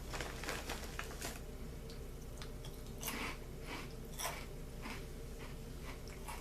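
Crisp crunching of Doritos 3D tortilla chips being chewed close up, a series of sharp bites and grinding crunches repeating steadily with no talking.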